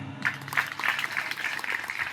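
Audience applause at a village Dayro comedy programme held at a Brahma Dev temple, a steady crowd of hand claps running through the whole stretch at moderate distance, with no talk over it.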